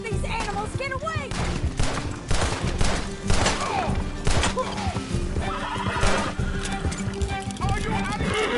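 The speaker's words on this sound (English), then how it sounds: "Can't these horses go any faster?" Horses neigh and whinny amid galloping hooves and scattered gunfire in a chase in the video game Red Dead Redemption 2, with voices talking over the busy, continuous action.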